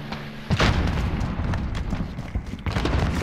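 A grenade bursting in the Call of Duty: Modern Warfare game, a loud, close, booming blast that rumbles for about three seconds with scattered gunfire mixed in.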